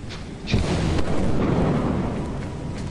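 A lightning strike in the video game Lethal Company sets off a loud, rumbling thunder crash that rolls on for a few seconds.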